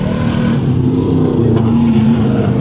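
A race car at the Cliffhanger 2025 event roars past at speed, a loud engine note that swells briefly with no talk over it.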